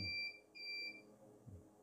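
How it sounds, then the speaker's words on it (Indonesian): A power backup system's overload warning buzzer goes off as the load is raised to about 1000 watts, giving two quiet, steady high-pitched electronic tones with a short gap between them and no talk. "saat menyentuh batasan atas maka buzzer berbunyi memberitahu kita bahwa sistem sudah mendekati limit atas"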